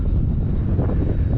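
A Sebart Fiat G-91 electric ducted fan model jet flies at half throttle outdoors, a brief, loud, rushing fan roar mixed with gusty wind buffeting on the microphone.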